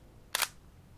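A Sony A6000 mirrorless camera fires its shutter once, giving a crisp, quick mechanical double snap close to the microphone in an otherwise quiet room.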